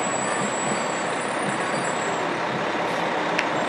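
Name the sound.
custom ladder fire truck in a Memorial Day parade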